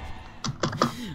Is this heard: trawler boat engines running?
no